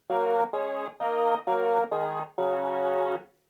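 Mellotron string sample layered with a muted brass synth patch, played as five quick detached chords and then a longer held chord that fades out. The sound is loud and full, with no voices.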